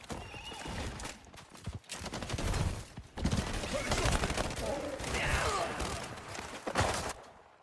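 Horse whinnies and galloping hoof clip-clop in the video game Highguard, loud and close, mixed with bursts of gunfire and game effects throughout.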